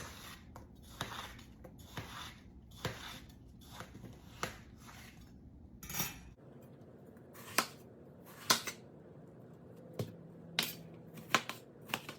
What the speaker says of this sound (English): Then I stack them and cut them into cubes.